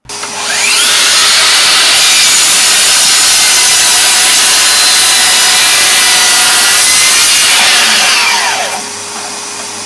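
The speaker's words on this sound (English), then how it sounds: "And as well as all that, it even cuts wood." Makita 36v cordless miter saw cutting through wood, very loud and close, a high whining motor spinning up into a sustained grinding cut that winds down at the end.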